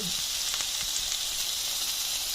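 Salmon fillets fry in a pan with a steady, fairly quiet sizzle throughout, with a few faint pops and no talking.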